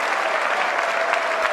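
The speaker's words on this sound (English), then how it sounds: "everyone's being like clapping for him" A crowd at an Iowa political event applauds Bernie Sanders in a steady, dense wash of clapping that fills the short clip at a loud level from start to finish, with no voices standing out.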